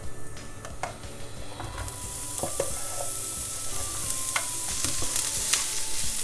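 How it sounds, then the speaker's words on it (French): Onions tipped into hot coconut oil in a cooking pot sizzle steadily, the frying hiss swelling and staying loud, with scattered scrapes and clicks of stirring throughout. "je vais rajouter les oignons dans l'huile de coco"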